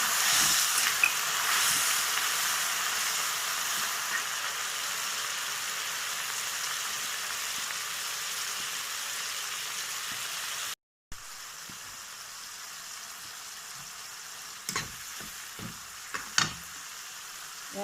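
Small fish sizzle in a pan as khar water is poured in for the Assamese dish khar: a loud, steady frying hiss that breaks off, then returns softer with a few light clinks of stirring.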